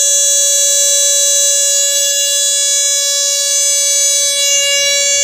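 The buzzer of a Bluetooth-based home automation over-temperature alarm sounds as one loud, steady, unbroken electronic tone that holds at the same pitch throughout.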